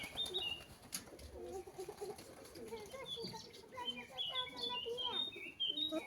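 Young homing pigeons flap their wings noisily as they take off, with bursts of wingbeats amid chirps and cooing in the background.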